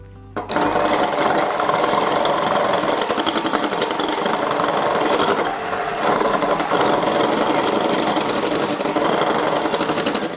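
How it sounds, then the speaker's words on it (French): A hand mixer whisks egg whites, buzzing loud and continuous close up for about ten seconds with a slight dip midway. "je vais commencer à les fouetter avec un batteur à main"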